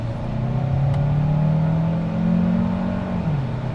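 A 2024 Hyundai Santa Fe Hybrid Limited accelerating hard on a road in Tampa, Florida, its engine drone rising steadily in pitch, loud and close from inside the cabin, then easing off near the end.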